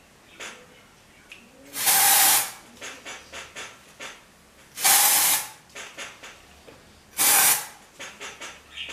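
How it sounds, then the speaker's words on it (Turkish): Three bursts of hairspray, each about a second long, are sprayed at the roots of the hair in sharp close hisses spaced a few seconds apart, with quiet handling noise between them. "Ve saçınızın dibinden püskürtün."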